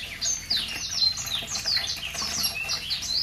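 Several white-rumped shamas on an Aceh breeding farm trade quick, high chirps and whistled phrases, fairly faint, over a soft wash of background noise.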